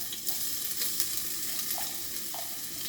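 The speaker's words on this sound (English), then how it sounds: "We're going to throw in these onions and garlic. Listen to that." Onions and garlic dropped into hot broth in a pan give a steady, close sizzle and hiss with a few faint clinks, heard alone without talk.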